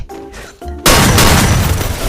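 A heavy burst of video game gunfire bursts in suddenly after a quiet, muffled stretch with a few faint tones, then roars on as a dense, loud, booming barrage that fills the rest of the moment.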